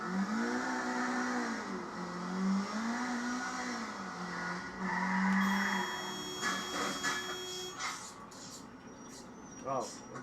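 Car driven in the video game Grand Theft Auto, its engine droning and revving up and down fairly quietly, with a few clicks and sharp effects near the end.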